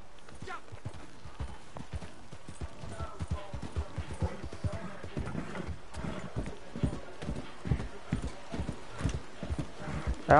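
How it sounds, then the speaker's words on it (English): Rhythmic hoof clip-clop of a horse trotting in Red Dead Redemption 2, with a brief whinny and game background sounds; a person talks intermittently over it. "Horse."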